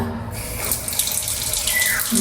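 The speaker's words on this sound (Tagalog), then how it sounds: "Malakas po ang tubig." Water runs strongly from a tap inside a house, a steady, close, unbroken rushing and splashing with no talk over it.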